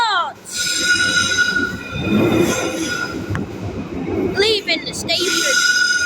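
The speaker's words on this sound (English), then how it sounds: "I hope you all covered your ears with that train, making a loud squeak out" A Merseyrail Class 777 electric train's wheels squeal with high, piercing tones as it departs Liverpool Central station, over rumbling rail noise, while people talk nearby; the squeal fades mid-clip then returns.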